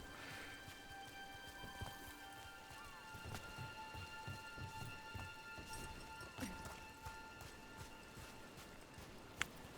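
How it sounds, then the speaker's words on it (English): Steady rain in the fantasy role-playing game Dragon Age: The Veilguard, a soft even patter with scattered sharper drops and faint clopping steps, quiet and continuous throughout. "Nobody else around here dumb enough to wait in the rain?"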